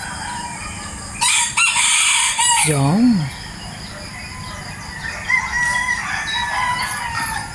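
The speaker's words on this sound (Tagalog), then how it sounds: "Kada umaga maririnig mo yung mga tilaok ng manok." A loud rooster crows up close in the morning, followed by more distant crowing and clucking from other birds, including a neighbor's roosters; a voice briefly speaks.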